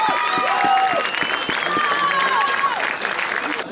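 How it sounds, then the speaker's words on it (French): Loud, sustained applause and cheering from a crowd at a professional fight event, honoring two fighters, with dense clapping filling the whole stretch and a voice calling out over it. "Applaudissez-les bien fort parce qu'ils le méritent"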